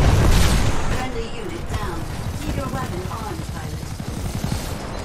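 Gunfire in the video game Titanfall 2, rapid bursts of shots crackling steadily under a busy mix of game effects and a player's voice talking over the action.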